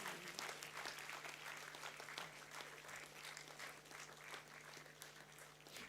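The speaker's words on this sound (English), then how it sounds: "So the overall best performer deserves a bigger round of applause" Applause from a large university convocation crowd for the overall best performer, sustained, even clapping from many hands heard at a distance over a steady electrical hum, with no voices standing out.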